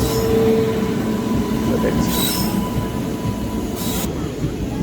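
A train rumbles steadily past on the rails with a loud, continuous roar while another train waits at a signal, brief metallic squeals cutting through twice.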